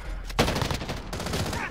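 Gunfire in a video game, a sharp nearby shot followed by a steady rattle of rapid shots over a short moment.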